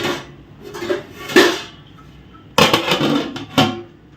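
Metal clatter of cookware: a few light clinks, then a louder clanging as a lid is set down and shifted on a pot of simmering sardine curry, close by.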